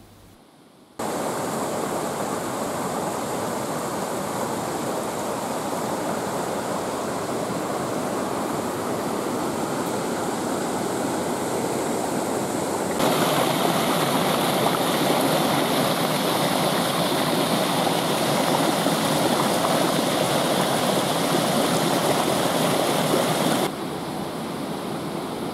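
The waterfalls of San Fele pour in a dense, continuous roar of falling water, loud and close, swelling brighter for a stretch in the middle before settling back, with no voices.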